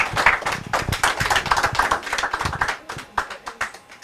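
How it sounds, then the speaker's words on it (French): A small crowd at a Guinean community press conference in New York claps, distinct individual hand claps in a brisk uneven rhythm, close and fairly loud, thinning toward the end. "Applaudissez pour Prince"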